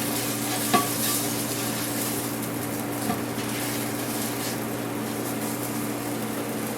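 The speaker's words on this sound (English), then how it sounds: "You want to put your onion in there and let it fry, let it sizzle for a minute." Onion and ginger fry in a hot pot for pho beef noodle soup, giving a steady, close sizzle that runs unbroken throughout, with a couple of faint clicks from the pan.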